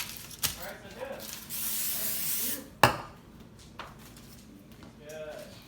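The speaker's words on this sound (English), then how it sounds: "So spray it so they don't cling." A short hiss of aerosol cooking oil spray bursts out over fries, with a sharp clatter near the middle, while a person talks over it.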